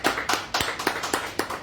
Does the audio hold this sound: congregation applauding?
yes